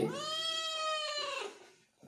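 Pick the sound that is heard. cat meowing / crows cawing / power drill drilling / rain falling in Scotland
cat meowing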